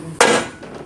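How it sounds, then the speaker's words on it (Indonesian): A single sharp hammer strike riveting a motorcycle clutch housing, a bright metallic clink that rings briefly and fades. "Dikeling dulu supaya kenceng dulu, nanti akan kita bantu pakai las."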